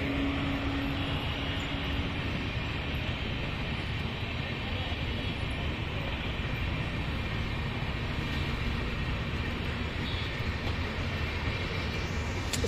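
The East Coast Express, hauled by a WAP-4 electric locomotive on the Shalimar–Hyderabad route, rolls past as a steady, moderately faint wash of rail and wheel noise.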